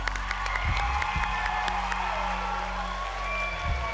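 A television talent show audience applauds semifinalists, a steady wash of clapping with some cheering mixed in under sustained tonal music throughout.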